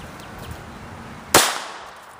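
A single sharp gunshot fired at coin targets about 15 feet away, a loud crack standing out once against quiet background and fading quickly.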